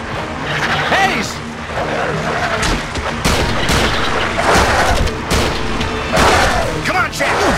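Heavy gunfire in Peter Jackson's King Kong game, loud rapid shots and booming impacts layered in a chaotic battle din, with shouted voices now and then.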